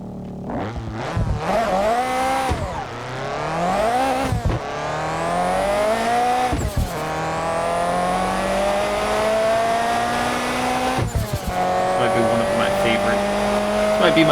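Toyota MR2 with a turbo engine in the Shutoko Revival Project racing game, revving hard through repeated gear shifts with sharp breaks between pulls and a long steady climb, loud, with talk over it.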